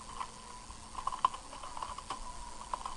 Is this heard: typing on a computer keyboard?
yes